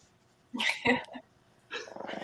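A dog gives short, close growling barks in a couple of bursts, then a rougher rumbling growl, loud against an otherwise quiet room.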